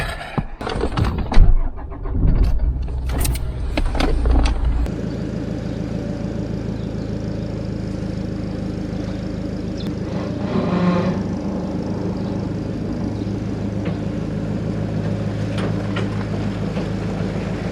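A car's engine idles steadily as it backs a toy hauler trailer toward a shed, a low continuous drone running close by after a few seconds of knocks and handling noise at the start.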